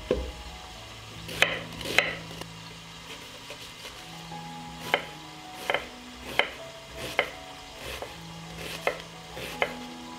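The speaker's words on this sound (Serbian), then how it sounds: "Dok se piletina prži, iseckat ću sitno 2 luka." Knife blade striking a cutting board as two onions are finely chopped while chicken fries nearby, giving a steady series of sharp, close taps roughly one per second over a low background hum.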